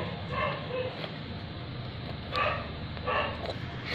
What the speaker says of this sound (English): Sorry for the doggies noise,